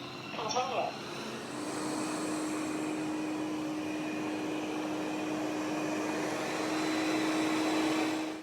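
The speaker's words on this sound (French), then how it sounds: "Je termine par aspirer mon salon, donc vous allez voir qu'il va même aller sur les tapis." An Ultenic TS1 robot vacuum-mop cleaner runs steadily through a living room and onto rugs, giving a continuous droning whir with a faint high whine at close range after a brief clatter at the start.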